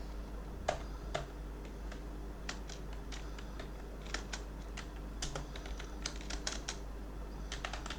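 Computer keyboard typing of SQL code, a steady run of quick, close key clicks in irregular bursts over a low background hum, with no voices.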